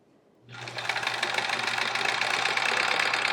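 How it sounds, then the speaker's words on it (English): A freshly oiled domestic sewing machine starting up after a brief silence and then running steadily at speed while free-motion quilting, a loud close whirring hum with fast rhythmic stitching. "So I think the machine sounds a whole lot quieter."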